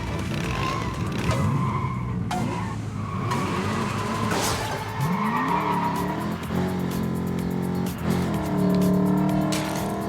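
Small Lego car in the racing game Lego 2K Drive, its engine humming and revving with skidding tire squeals, loud and steady throughout, with game music underneath.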